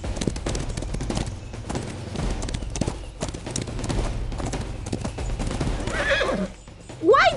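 Cartoon horse clip-clopping over hurdles with a dense patter of hooves and thuds, ending in a loud, shrill whinnying neigh; no talking.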